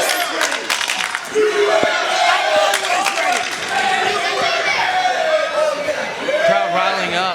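A sold-out pro wrestling crowd at an NWA heavyweight title match roars and chants, loud and sustained, with shouting voices and whistles rising and falling over the commentators' talk.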